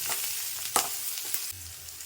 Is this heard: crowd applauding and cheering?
no